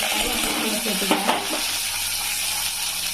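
Sliced large onions frying in hot oil with popped mustard seeds for a Mysore masala chutney, a steady close sizzle with a brief stir and clatter of utensils near the middle.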